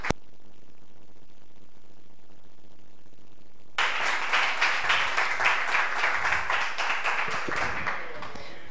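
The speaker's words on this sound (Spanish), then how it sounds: "un fortísimo aplauso para Rebeca Millán" Audience applause at a public talk on human evolution, starting suddenly after a quiet pause and continuing as steady rhythmic clapping for several seconds before fading.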